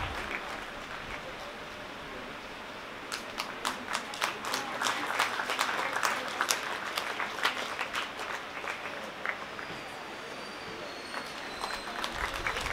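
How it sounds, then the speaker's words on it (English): An audience claps at a children's literature festival talk, starting as light scattered clapping that swells into fuller, denser applause in the middle and then thins out again, heard at a moderate distance with no voices on top. "You can clap louder, you can clap louder."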